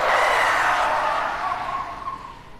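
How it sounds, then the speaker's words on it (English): A taxi brakes hard to a sudden stop in the video game 428 Shibuya Scramble, a loud, sustained tire skid that screeches steadily and then fades slightly over a few seconds, with no voices. "The taxi lurched to a sudden stop as the driver slammed on the brakes."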